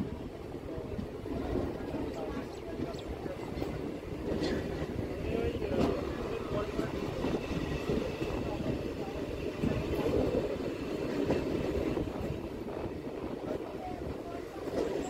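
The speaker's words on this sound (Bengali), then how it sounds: "এখান থেকেই আমাদের ট্রেনটা পুরো ডান দিকে ঘুরে যাবে।" A Hasnabad local train rumbles steadily as it runs and curves right past the Barasat car shed, with continuous low rattling and clatter from inside the carriage and occasional voices.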